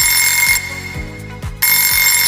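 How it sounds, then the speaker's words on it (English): An alarm clock rings in loud, repeating electronic bursts, a shrill pulsing beep that cuts out briefly mid-clip and then returns, close and insistent with no voices. "I was yanked out of my dreams by the sound of my alarm clock."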